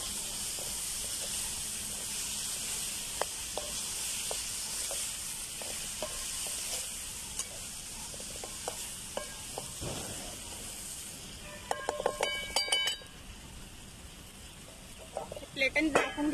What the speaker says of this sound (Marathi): त्याच्यामध्ये तुरीचे शेंगाचे दाणे आहेत हे आणि त्याच्यामध्ये दोन बटाटे कापून घेतलेत बारीक तुकडे हे याच्यात घालायचे.